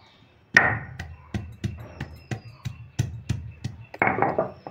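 Mustard seeds being ground fine on a grinding stone, a series of close, sharp knocking and scraping strokes, roughly three per second, irregular and fairly loud, with no voices.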